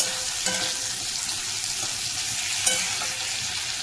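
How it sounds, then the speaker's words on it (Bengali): Onion, tomato and ginger fry in oil in a pan, a steady close sizzle with a few light stirring scrapes and no voices. "টমেটো দিয়ে দিলাম, আদা, এটা সব কিছু আমি ভেজে তোমাদেরকে দেখাচ্ছি"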